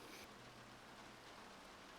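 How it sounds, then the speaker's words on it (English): Faint, steady rain hisses evenly in a ranch roleplay video game, with a soft continuous patter on surfaces and no other sounds standing out. "It's fucking raining."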